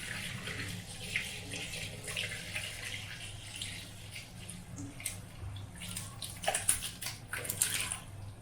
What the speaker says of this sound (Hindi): अब दूध को इसमें डाल देंगे।